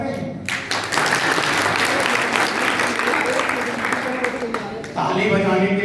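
An audience at a community meeting bursts into sustained, dense clapping that carries on almost throughout, dipping briefly near the start and again toward the end, with a voice faintly present beneath.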